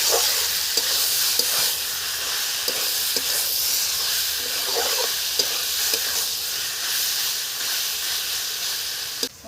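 Chicken meat frying in very little oil, a steady close sizzle and hiss running throughout with occasional stirring clicks from a utensil against the pan.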